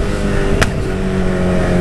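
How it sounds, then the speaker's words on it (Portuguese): A car engine runs close and loud in a steady, throbbing drone, with a sharp crack or pop early on as it revs. "Liguei o carro, já tá dando ruim pro meu lado."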